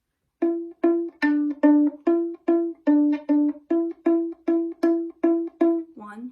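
Violin bowing measure 2 of a piece from the second violin part, a string of about twelve short detached notes in an even, steady rhythm, close and clear with silence around each stroke.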